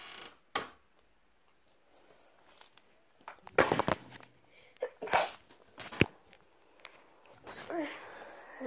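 A person sneezes indoors amid scattered clicks and rustles, with a few sharp bursts standing out from quiet background.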